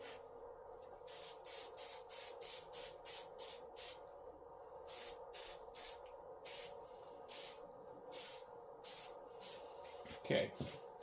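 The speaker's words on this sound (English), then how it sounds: "We'll give this a little bit of hairspray." Hairspray from an aerosol can is sprayed onto the bed of a budget 310x310mm 3D printer with a built-in filament dryer, in a string of short hissing bursts of varying length with brief pauses between them.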